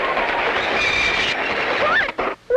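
A cartoon train rolls along the rails with a steady rumble and clatter, a thin whistle-like tone and squealing wheels near the end, under a voice talking.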